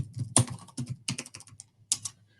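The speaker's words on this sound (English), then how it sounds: "I'm going to access it just by typing in the code." Typing a code on a computer keyboard: a quick burst of close, clattering keystrokes in uneven clusters, then a pause and a final few taps, with no talk.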